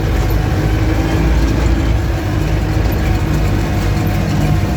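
A heavy diesel tractor engine drones steadily and loudly at constant revs under load while pulling a seeder, a deep continuous rumble with no pauses.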